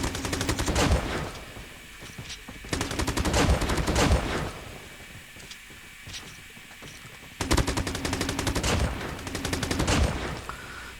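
Bursts of M4 rifle gunfire in a video game, three rapid automatic volleys of sharp cracking shots separated by quieter pauses, loud and close.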